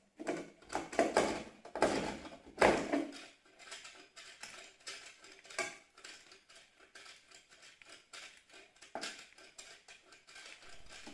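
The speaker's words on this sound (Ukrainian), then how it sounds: "Спочатку натираємо господарське мило на терці." Repeated scraping strokes rasp close by as household laundry soap is rubbed against a grater, louder at first then softer and irregular, with no voices.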